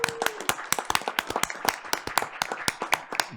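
Clapping for a teacher being honored as outstanding teacher of the year at an elementary school board of education meeting, sparse and uneven, a modest number of hands giving separate sharp claps at close range.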